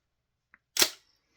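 A single sharp shot from a Tokyo Marui MWS gas airsoft rifle with a Guns Modify Evo bolt firing 0.2 gram BBs, preceded by a faint tiny click, close and loud with a quick decay into silence.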